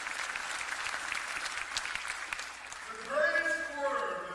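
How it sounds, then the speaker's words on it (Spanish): A church congregation claps for the Lord during a Spanish-language sermon, a steady wash of applause filling the first three seconds before fading, after which a voice and some tonal sounds rise over the tail. "dele un aplauso al Señor"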